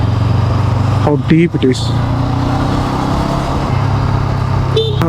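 A twin-cylinder NX500 motorcycle riding through Bangalore's Monday city traffic, its engine droning steadily and close throughout, with someone speaking briefly over it and a short horn-like tone from passing traffic.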